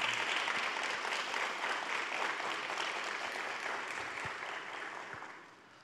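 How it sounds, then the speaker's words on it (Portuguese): An audience applauds a mother during a Catholic devotional program on Marian devotion. Dense, continuous clapping stays strong, then gradually fades out toward the end. "Pode aplaudir essa nossa mamãe."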